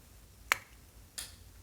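A vintage receiver being switched on gives a sharp, quiet click, then a softer second click follows in an otherwise hushed room.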